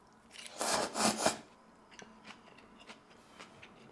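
Crisp crunching from biting into fresh bean sprouts used as a ramen topping, a loud close burst of chewing followed by quieter intermittent crunches.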